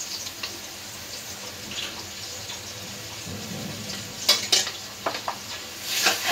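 Spices with cumin powder, salt and ginger-garlic paste fry in a village kitchen pan for a fish curry, giving a low steady sizzle with a few scraping stirs and metallic clinks toward the end; no talking.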